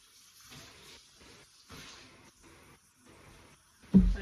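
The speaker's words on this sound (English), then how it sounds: "how I clean, rinse my chicken off" Raw chicken is rinsed under a running kitchen tap while being cleaned for frying. The water comes in short, uneven gushes and splashes separated by brief gaps, and a sharper thump lands at the very end.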